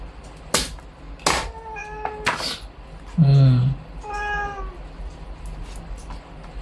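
A cat meows several times outdoors in the forest, clear rising and falling calls with a sharper, lower cry in the middle, mixed with a few sharp knocks and faint background noise.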